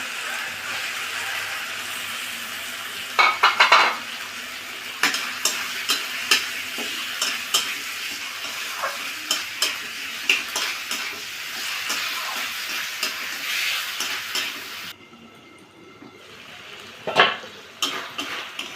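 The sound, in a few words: chicken scraps being sautéed with spices in a pan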